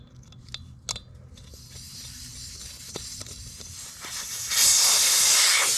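Air rushes out of an Argo ATV tire after the valve stem is pulled, preceded by a few small metallic clicks from the tools, then a loud, close, steady hiss that swells near the end.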